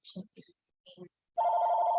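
A telephone ringing indoors, a single sustained electronic ring that starts abruptly after a few short voice-like sounds and continues loud and steady to the end.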